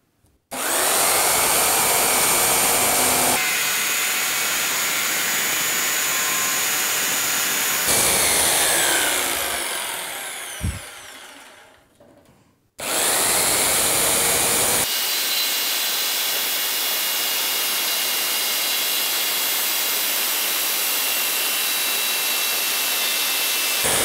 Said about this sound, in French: Une découpe avec la lame classique et l'autre découpe avec les dents inversées.